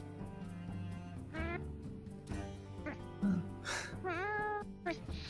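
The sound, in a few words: person imitating a cat meow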